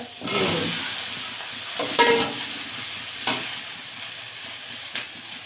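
Radish, potato and eggplant dropped into hot oil in a village kitchen pan: a burst of sizzling as they go in, then continuous frying hiss with several scraping stirs and clinks, close and fairly loud.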